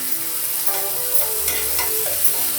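Pav bhaji masala stirred with melted butter in a pan gives a steady close sizzle, with soft scraping strokes and a few light spoon knocks against the metal.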